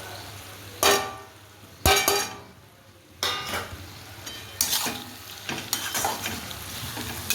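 Ground spices sizzle and fry in a pan for a village-style chicken curry, with several sharp clatters of a spoon stirring against the pan over a low, steady sizzle and no talking.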